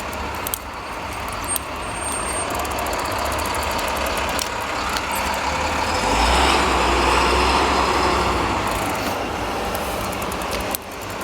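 A truck engine idles close by in morning commuter traffic at a dead stoplight, a steady heavy rumble that swells slightly midway with a continuous traffic wash behind it.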